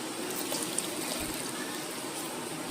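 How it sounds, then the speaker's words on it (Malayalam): Cold milk pours in a steady, soft trickling stream into a bowl, close by and uninterrupted. "ഇനി 1/2 കപ്പ് പാല്, നല്ല തണുത്ത പാലൂടെ ഇതിലേക്ക് ഒഴിക്കാം."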